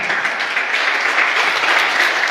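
A church congregation applauding loudly, a dense, even roar of clapping that carries on without a break.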